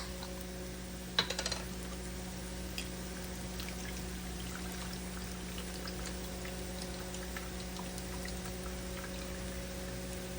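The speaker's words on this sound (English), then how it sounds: "pour the juice in this bowl" Seafood juice, from lobster and shrimp, poured into a bowl: a brief splash and trickle early on, then a faint steady hiss of kitchen background with no talking.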